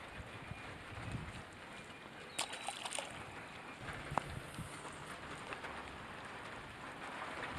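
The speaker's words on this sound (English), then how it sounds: "The rain is still kind of blowing under here." Rain falling and blowing under a shelter during a fishing trip, a soft steady patter with scattered louder drops and a few knocks, no speech.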